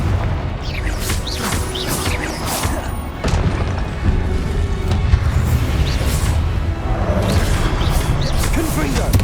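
Confringo fire-blast spells exploding in Hogwarts Legacy, repeated booming impacts and crashes in a busy battle mix, loud and continuous with voices shouting over the clamor.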